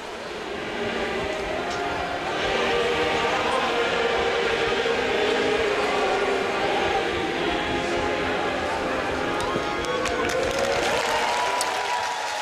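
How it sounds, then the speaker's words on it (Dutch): A large crowd applauds steadily at a Frisian kaatsen final, dense sustained clapping filling the air for several seconds, with a commentator speaking faintly over it. "En daar is het applaus"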